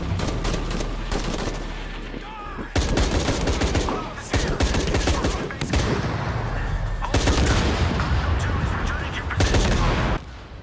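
Loud gunfire from the video game Shadow of the Tomb Raider fills the scene with dense, sustained bursts of rapid shots. Brief gaps break the barrage into several long volleys.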